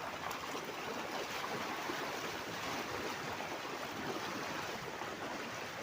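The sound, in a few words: flowing stream water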